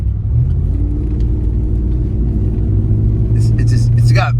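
A Hemi-powered car accelerates hard with a deep, loud, close engine rumble. The engine's drone builds steadily, and a rising whine appears toward the end.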